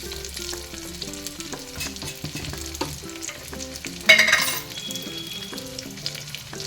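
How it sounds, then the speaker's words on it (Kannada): Jackfruit seed gravy ingredients frying and being stirred in a pan, a soft steady sizzle with spoon scrapes under background music, with a brief louder sizzle midway. "ಒಂದು ನಿಮಿಷ ಫ್ರೈ ಮಾಡ್ಕೊಳ್ಳೋಣ"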